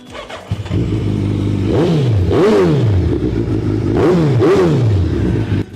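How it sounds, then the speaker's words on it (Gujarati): A Suzuki Hayabusa fitted with an original Yoshimura exhaust revs up hard four times, each blip rising then falling away, loud and close over a steady idle. "માઇન્ડ બ્લોઈંગ સાઉન્ડ સાથે હાયાબુઝા ઓરિજિનલ યોશીમોરાના એક્ઝોસ્ટ નાખેલા"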